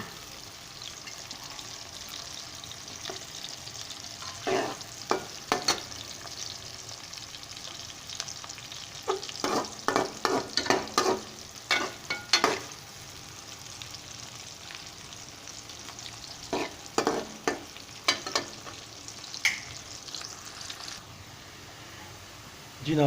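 Onions fry until golden brown and chicken is added to brown in the pan, giving a steady soft sizzle broken by bursts of stirring and scraping, with quiet talk at times in the background.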